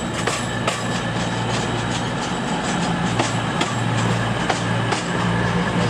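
A train idles at Manchester Piccadilly railway station, a steady low rumble filling the platform with faint clicks and station bustle throughout, no talk.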